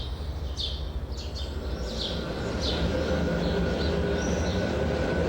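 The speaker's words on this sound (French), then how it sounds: "c'est un véritable métro, manifestement hermétique à tout folklore, qui escalade la colline" The Croix-Rousse rack metro in Lyon climbs a hill with a steady close rumble and drone, while brief high chirps or squeals flicker above it early on.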